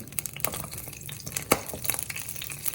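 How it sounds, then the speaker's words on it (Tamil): Whole green chillies fry in hot oil at moderate heat for a chutney, a steady close crackling sizzle broken by brief stirring scrapes and pops, with no talk. "முதல் போட வேண்டியது பச்சை மிளகாய் இதை முழுசாக போடுவோம்"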